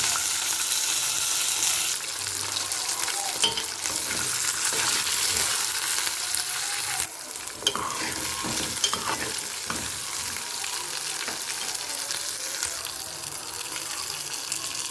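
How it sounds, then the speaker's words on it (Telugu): Cumin, urad dal, chana dal and green chilies fried in oil for a raw mango coconut chutney, giving a loud, continuous sizzle with scraping stir strokes throughout. "అలాగే కొద్దిగా జీలకర్ర అలాగే కొద్దిగా మినపప్పు శనగపప్పు ఇవి వేగినాయి కదండి అలాగే పచ్చిమిర్చి"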